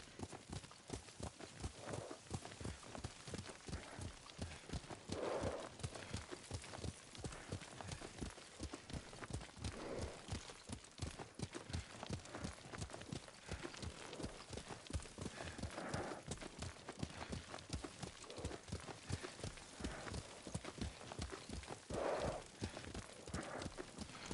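Steady clip-clop of horse hooves at a trot in the video game Ghost of Tsushima, continuous and rhythmic throughout, with a faint ambient hiss beneath.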